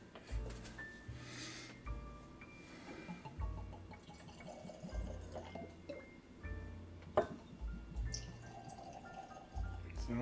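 E.H. Taylor bourbon whiskey is poured into a glass, faint liquid trickling and dripping heard up close, quiet and intermittent against light background noise and soft voices.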